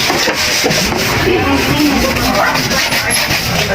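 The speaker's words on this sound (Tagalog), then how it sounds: "dahil sa scrap na po yung ating mga PVC, kailangan po natin tanggalin yung mga langis" Scrap PVC pipe is rubbed and wiped to remove oil, a loud, close, continuous scrubbing friction throughout, with no talk.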